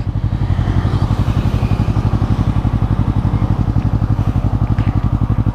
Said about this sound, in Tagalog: ito yung sound ng kanyang muffler